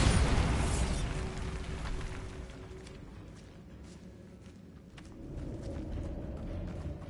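A Bombarda blasting-spell explosion in the Hogwarts Legacy video game: a loud booming burst at the start that slowly decays into a low rumbling tail, with a smaller swell of rumble near the end.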